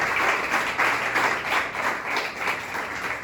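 A church congregation applauds in praise, a steady wash of many hands clapping at moderate loudness, continuous and fairly even for the whole stretch with faint voices beneath.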